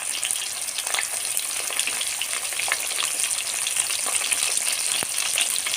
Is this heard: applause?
no